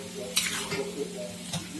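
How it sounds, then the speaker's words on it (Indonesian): A utensil scrapes and stirs through spicy balado fried chicken in a pan, with a soft sizzle underneath and a couple of brief clattering scrapes. "Kita tinggal aduk-aduk aja."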